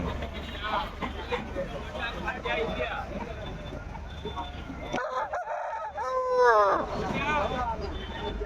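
A Kilimookku rooster crows loudly nearby at a rooster market, with people talking over the busy background before and after the call.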